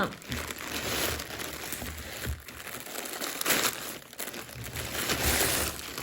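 A plastic bag crinkles and rustles continuously up close as cross-stitch supplies from a Temu order are pulled out, with a voice faintly underneath.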